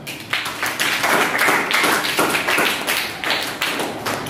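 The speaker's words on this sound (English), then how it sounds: "Clap for her." A classroom of students claps for a classmate, a steady run of many hands slapping together at close range, with no talk over it.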